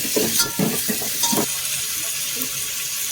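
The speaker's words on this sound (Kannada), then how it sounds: "ಈಗ ಜಿಂಗಾ ಹಾಕಿದ್ದೀನಿ ಫ್ರೆಂಡ್. ಸ್ವಲ್ಪ ಫ್ರೈ ಆಗಿದೆ" Prawns frying in a pan for biryani, a loud close hiss of oil with a few rhythmic stirring scrapes early on, then a steady sizzle alone.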